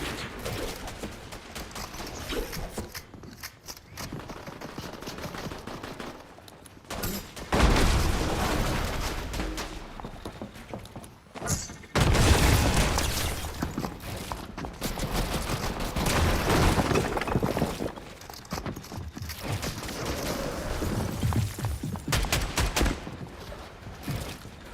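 Heavy gunfire in a UEFN-built game comes in loud, rattling volleys and booms, with brief lulls between the fierce bursts.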